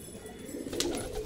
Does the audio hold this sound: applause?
no